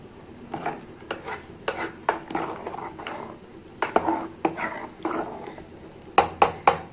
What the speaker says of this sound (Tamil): இப்போ கலந்து விட்டுடுறேன்.